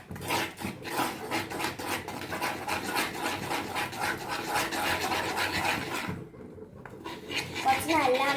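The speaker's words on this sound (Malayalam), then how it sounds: "കുറച്ച് നല്ലോണം ഇളക്കണം." A spoon stirring maida batter in a bowl gives a continuous close wet scraping and clinking that pauses briefly near the end, while people talk over it.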